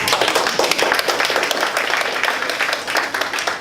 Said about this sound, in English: this SAA deserves a big round of applause